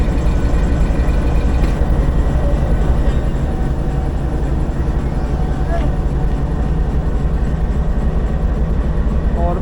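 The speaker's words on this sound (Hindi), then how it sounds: "ट्रेन चल रही है" Shalimar Express passenger train from Lahore running, a loud steady rumble and roar of the moving train heard from onboard, continuous throughout with no clear talking.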